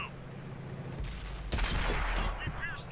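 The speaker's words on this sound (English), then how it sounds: "something's shooting at me on the flank and missed" Tank cannon fire in World of Tanks, with a couple of heavy booming shots landing close together amid rumbling battlefield noise, one shot fired from the flank and missing.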